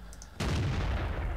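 A single loud tank cannon shot from an M26 Pershing in World of Tanks bursts out close and heavy, followed by a rumbling boom that carries on to the end.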